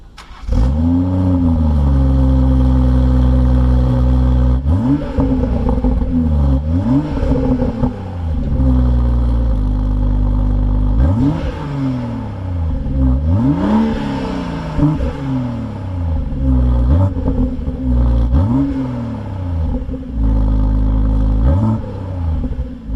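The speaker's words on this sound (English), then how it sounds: "here's a couple of rather disappointing clips of the standard 140 if you don't already know what it sounds like" Stock BMW M140i engine revving repeatedly with its standard exhaust, loud rises and falls in pitch, several sharp revs blipping over a deep steady rumble, close and alone with no talk.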